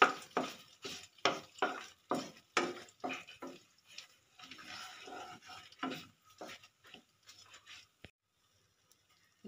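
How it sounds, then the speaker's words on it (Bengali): Cardamom, cinnamon and clove frying in a pan for pepper chicken, heard as a series of close, rhythmic stirring scrapes over a light sizzle that thins out toward the end. "এলাচ, দারচিনি, লবঙ্গ। আমি এটা একটু ভেজে নেব।"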